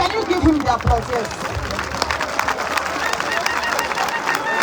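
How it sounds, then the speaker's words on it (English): Audience applause crackles as a dense patter of claps, starting under a voice and growing into a steady, moderately loud spread of clapping. "please, can you give him the applause?"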